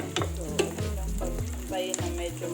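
Onion and garlic sautéing in butter in a pan, a continuous close sizzle broken by repeated scraping stirs at a slow, uneven rhythm.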